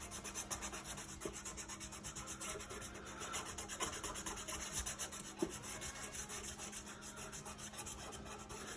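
A low-grit abrasive rubs steadily against an apple wood pen blank on a lathe, giving a continuous close rasping texture that swells slightly and fades over several seconds, with no voices.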